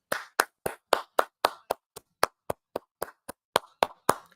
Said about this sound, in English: Let me give you a clap on live right now.